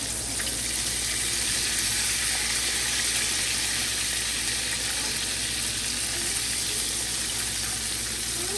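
Ribs frying in hot grease give off a steady, dense sizzle that crackles on without a break, close and fairly loud, with no talking.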